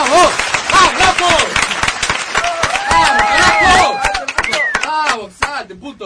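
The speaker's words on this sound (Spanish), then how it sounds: "vamos con los aplausos" Live audience clapping and cheering at a rock radio show, dense close applause with shouts and voices over it, fading toward the end.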